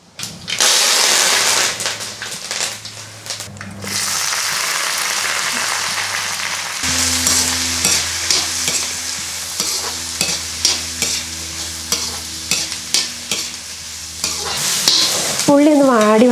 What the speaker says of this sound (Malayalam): ആദ്യം നമുക്ക് കടുക് വറുത്തിട്ട് ചെറിയുള്ളിയും പച്ചമുളകും കൂടി ഒന്ന് വഴറ്റിയെടുക്കണം